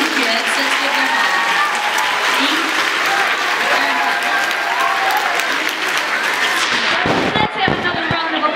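Audience applause at a school Christmas pageant, a sustained, dense round of clapping filling a hall, steady and loud for most of the stretch before breaking into a few scattered final claps.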